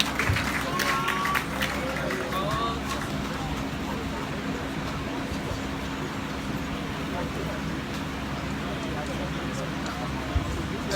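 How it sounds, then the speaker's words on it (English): Audience applause at a National Youth Council of Nigeria International Youth Day event hosted by the Ooni, a dense steady clatter of many hands from a large crowd that holds level throughout, with faint voices mixed in. "A round of applause for Mr."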